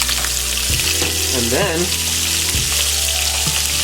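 Butter sizzling loudly in a hot pan alongside pan-seared tilapia, a continuous close crackle with a brief tonal scrape partway through and a few knocks, a voice speaking briefly at the start.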